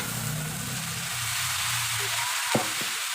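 Sizzling pork adobo fries steadily in a pan, then string beans drop in with a short clatter and a brief rise in the hiss near the end.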